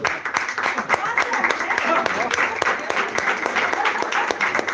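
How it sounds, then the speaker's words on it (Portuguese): A religious congregation claps steadily, dense and sustained applause filling the whole stretch, with voices mixed in underneath. "salve de palmas"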